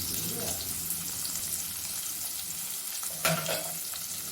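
Onions frying in a pan for corn rice, a continuous loud hiss and crackle close by, with a brief clatter or scrape near the end, no clear talk.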